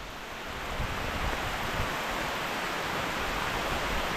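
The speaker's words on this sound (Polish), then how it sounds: "5 minut deszczu i już rzeki ulicą płyną." Rainwater rushing down a street pours steadily with a broad, hissing wash, growing slightly louder after the first moment and holding constant.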